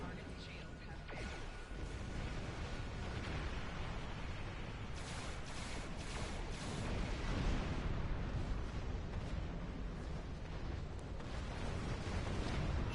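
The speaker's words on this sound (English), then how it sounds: "The explosion." A starship explodes in the video game Star Trek Online, producing a long, loud roar of rumbling blasts and crackling bursts that swells toward the end.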